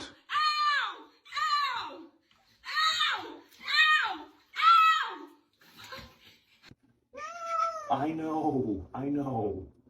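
A cat being bathed lets out a string of loud, drawn-out distressed meows, about eight calls in close succession, some rising into wails, with brief gaps between.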